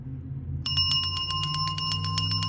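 A small bell is shaken in a fast, regular pattern of clear ringing tones, close and steady, heard over a low background hum with no speech.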